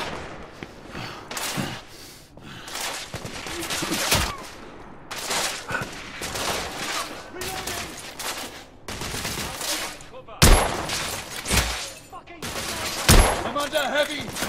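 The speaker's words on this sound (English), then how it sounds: "I'm under heavy fire!" Heavy gunfire in The Order: 1886, loud repeated bursts and single cracks in irregular volleys, with booming impacts and some shouting voices amid the battle.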